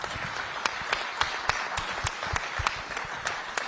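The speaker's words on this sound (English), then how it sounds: "I think we need to give him a round of applause" A small town hall crowd claps steadily, a scattered round of applause with sharp individual claps standing out, moderately loud throughout.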